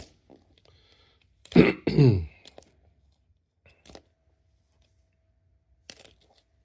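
A couple of harsh, close coughs burst out together, followed by a few faint, brief throat sounds in otherwise quiet surroundings.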